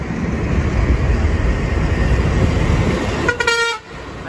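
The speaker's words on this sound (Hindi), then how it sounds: "पीछे से कोई हॉर्न मार रहा है।" A large vehicle's horn sounds once from behind, a short, loud toot near the end, over the rumble of night traffic and a running engine in India.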